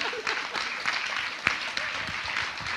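Audience applause at the Latvian Event Forum Excellence Awards 2025 ceremony: a steady wash of many hands clapping, close and moderately loud, with no speech and no pauses.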